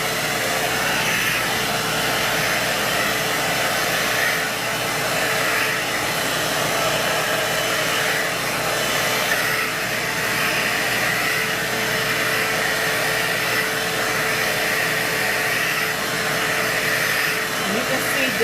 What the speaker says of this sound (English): I'm blow drying her hair out to finish her smoothing treatment.